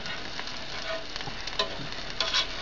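Bread roll frying in bacon fat in a pan, a soft, steady crackling sizzle with a few brief spits and pops, close and quiet, with no talking.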